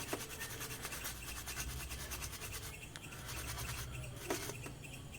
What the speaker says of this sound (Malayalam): വീണ്ടും ഇതുപോലെ അപ്ലൈ ചെയ്തതിന് ശേഷം ബ്രഷ് കൊണ്ട് ഒന്നും കൂടി ക്ലീൻ ചെയ്യാം.